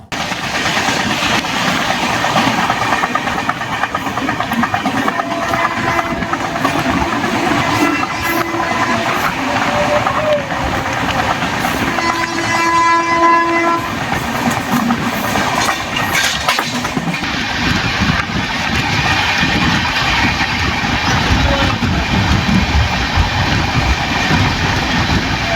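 The Nilgiri Superfast Express rolls out of Mettupalayam toward Chennai, a continuous loud rumble of coaches with rail clatter and a passing tonal whine, heard from on board.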